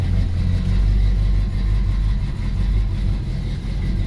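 A car engine with some unspecified fault runs steadily just after starting, a loud, continuous low rumble at a near-even idle with no voices over it.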